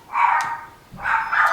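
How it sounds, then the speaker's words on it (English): Dog barking at someone at the front door, two short close barks with a pause between them. "We have the dog alarm going off."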